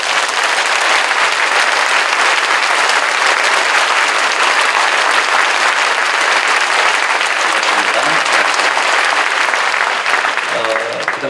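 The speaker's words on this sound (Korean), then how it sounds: "이분들 일어서실 때 큰 박수로 환영해 주십시오." Church congregation at a Korean Protestant anniversary worship service gives long, loud, sustained applause to welcome visiting Japanese evangelical alliance leaders, a dense uniform roar of clapping with brief voices surfacing near the end.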